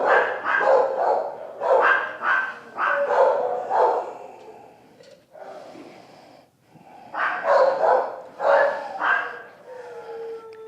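A Labrador hound mix dog barks and yowls close by in repeated drawn-out, talkative bursts, pausing for snuffling breaths before another run of vocal barks.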